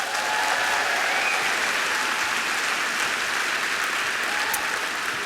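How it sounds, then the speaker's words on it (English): Audience applause for a woman introduced on stage, a dense, steady wash of clapping from a large crowd that lasts throughout without talk. "Round of applause for Tracy."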